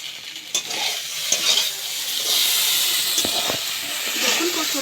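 Okra sizzles and hisses as it fries in a pan, with a steady broadband crackle and occasional stirring clatters throughout.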